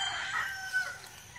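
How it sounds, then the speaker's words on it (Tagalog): A rooster crows once on a small poultry farm, fairly distant and thin, with faint farmyard ambience and no talk. "Ayan po ating mga tandang."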